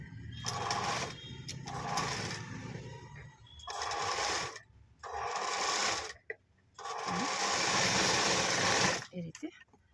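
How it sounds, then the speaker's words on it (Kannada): A sewing machine stitches fabric for a layered doori design in bursts of fast whirring, stopping and starting several times, with a voice talking over and between the runs. "ಈ ರೀತಿ ಸ್ಟಿಚ್ ಮಾಡ್ಕೋಬೇಕು"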